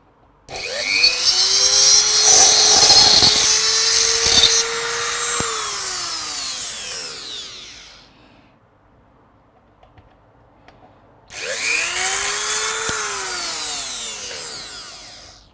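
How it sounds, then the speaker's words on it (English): Power drill boring a pilot hole during a Korg T1 synthesizer refurbishment, two loud bursts of whining motor and cutting noise. The first lasts about seven seconds, then a pause, then a shorter second run. "There's the pilot hole drilled."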